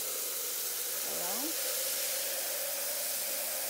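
Water sprayed while cleaning a rabbit cage, a constant loud hissing spray close by, with a brief low voice murmuring partway through.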